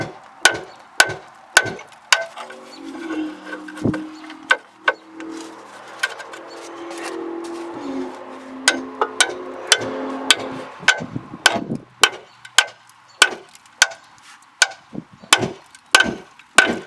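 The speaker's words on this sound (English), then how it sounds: "Okay, now we can separate our ball joint. You can use a pickle fork." Repeated sharp metallic hammer strikes on a pickle fork driving apart a lower control arm ball joint on a Hyundai Santa Fe Sport, close and loud, with a scraping grind midway.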